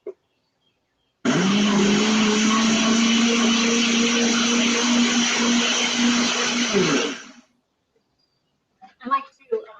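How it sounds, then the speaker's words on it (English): A blender runs loud and steady for about six seconds, whirring through apple and carrot for homemade dog treats, then cuts off; brief talk follows. "So then just pop it onto your blender."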